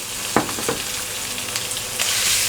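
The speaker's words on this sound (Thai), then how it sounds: "ลงไปผัดเลย" Minced pork stir-frying in a pan with fragrant garlic: a loud, close, continuous sizzle broken by a few sharp spatula scrapes and clacks, with no voices.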